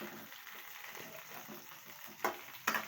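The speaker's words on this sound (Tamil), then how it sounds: "இப்போ இதை நல்லா வறுத்து எடுத்துக்கலாம்" Eggplant fries quietly in hot oil in a pan, a faint continuous hiss, with two brief clatters near the end.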